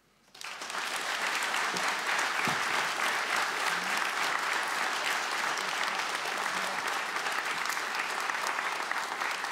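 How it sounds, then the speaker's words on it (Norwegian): An audience applauds a debate panel at an agricultural debate at Stiklestad, Norway. The clapping rises quickly into a dense, steady, fairly loud ovation and holds evenly for about nine seconds. "dere kan gjerne klappe for dem"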